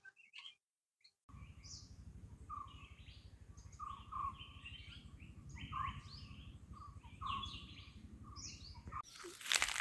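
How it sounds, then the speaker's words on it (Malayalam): Near a forest by a village church, birds sing with repeated bright chirps over a steady low hum, faint and somewhat distant. "ഇവിടേക്ക് ഒന്ന് കാതോർത്താല് പക്ഷികളുടെയൊക്കെ നല്ല മധുരമായ സൗണ്ട് നമുക്ക് ആസ്വദിക്കാൻ"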